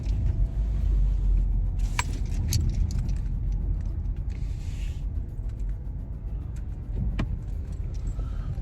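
A car driving at night on a quiet road, steady low rumble of engine and tyres throughout with occasional faint clinks and rattles of keys inside the cabin.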